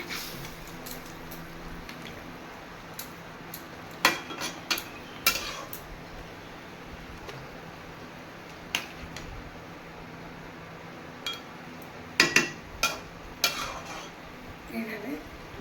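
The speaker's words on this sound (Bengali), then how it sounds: "এভাবে দিয়ে দিলাম জল দিয়ে ভালোভাবে আমি নেড়ে নেবো" Jackfruit curry being stirred in a pot after water is added, a quiet background with sporadic sharp clinks and scrapes of a utensil against the pot and a faint hum underneath.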